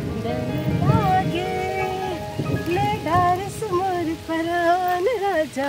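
Steady rain patters in the background while voices go on over it throughout.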